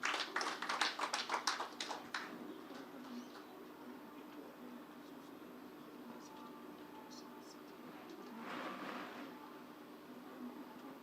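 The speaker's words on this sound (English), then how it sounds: "please a round of applause for yourselves as well" Audience applause at a Nahco Aviance PLC capital market stakeholder event, a burst of clapping that fades after about two seconds into a quiet room, with a brief murmur of voices later on.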